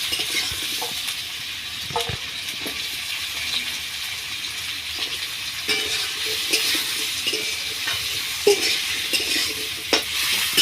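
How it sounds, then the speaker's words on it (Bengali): Potatoes and onions fry together in a pan with a steady hiss of hot oil, broken by scattered scrapes and taps as they are stirred throughout. "আলু পেঁয়াজ একসাথে ভাজা ভাজা হয়ে যাবে।"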